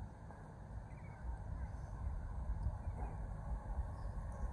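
A single Class 375 electric multiple unit moving at a station on the Chatham Main Line at Sittingbourne, a low rumbling drone of wheels and traction that builds slightly and holds steady, with faint voices around it.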